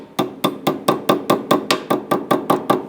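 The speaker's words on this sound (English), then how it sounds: "We're going to go ahead and use a hammer just to go ahead and tap that on." A hammer taps a brake clip into place on the rear brakes of a 2006-10 Honda Civic, about a dozen evenly spaced sharp metallic knocks, close and loud with no talk.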